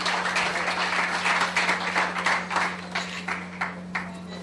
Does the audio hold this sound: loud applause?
yes